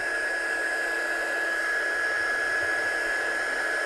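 An embossing heat tool heat-setting ink on a stamped handmade card gives a loud, steady blowing whir with a constant high whine, running unbroken from start to finish.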